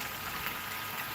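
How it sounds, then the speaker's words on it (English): Steady soft bubbling and hiss of a pond air pump through an air stone, continuous and even, fairly quiet with no voices. "Now I can hear the pump, the air pump"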